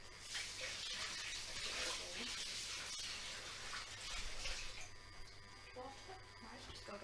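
Water runs from a tap into a vessel in a home kitchen during dessert making, a faint, steady hiss that fades partway through, with a low background hum.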